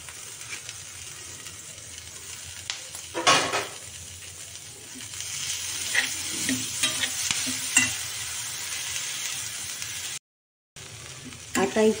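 Chiv leaves, a wild leafy vegetable, sizzle and hiss steadily in a hot pan over spices while a spoon stirs them, with scraping clatters against the metal and a brief break in the sound.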